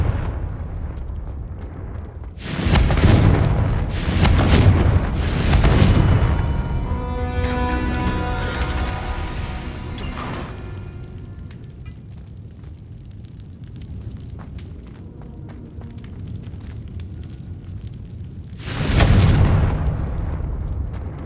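Confringo fire spells burst in Hogwarts Legacy, a magic video game. Several loud, close fiery explosions go off in quick succession, then crackling debris and a fading rumble, and later one more booming blast.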